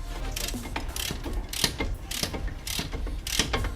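A ratchet loosens the front brake caliper bolts on a 2006 Toyota Highlander Hybrid, giving close, rapid clicking bursts that repeat in short, uneven strokes with brief pauses between.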